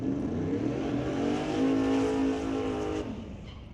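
A 1981 Malibu drag car with a 598 cubic inch engine and a little nitrous revs hard at a racetrack, a loud, sustained roaring engine note that holds steady, climbs, then drops off near the end.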